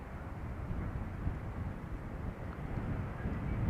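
An Embraer jet arrives on runway 18R at Amsterdam Schiphol, heard as a steady broadband roar with a low rumble that holds at a moderate, distant level through the clip, with no voices.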